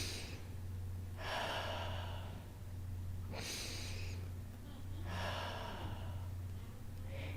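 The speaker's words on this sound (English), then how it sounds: "Take another nice deep breath in. And exhale" Slow, deep breaths in and out during a guided relaxation, three long airy exhalations with pauses between, heard close over a steady low hum, no talking.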